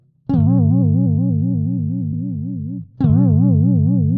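Bass synth tone run through a modulation effect using a triangle waveform, giving a steady wavering pitch wobble; two sustained loud notes, the first about two and a half seconds, the second starting just after, alone with no talk.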